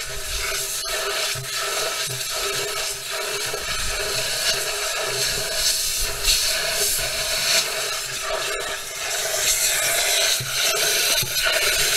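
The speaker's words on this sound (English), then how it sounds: "then he uses the air compressor to blow it out." Compressed air blasting through a truck frame during cleaning, a steady broadband hiss and rushing that holds at close range for the whole stretch, with occasional rubbing and scraping textures and no talk over it.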